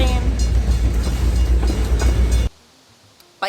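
A train rushes past at close range with a loud, steady roar and rumble for a couple of seconds, then cuts off abruptly to near silence.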